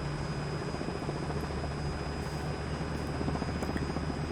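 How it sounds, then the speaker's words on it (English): Robinson R22 helicopter in Microsoft Flight Simulator 2020 with the throttle rolled back to idle before an autorotation, a steady, loud rotor and engine drone holding level throughout without talk. "now I can roll back the throttle to idle and try to perform the auto"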